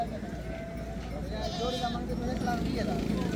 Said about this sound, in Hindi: ये देखें भेड़ें आप देख लें माशाल्लाह